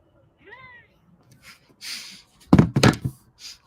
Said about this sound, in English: Tiny meows.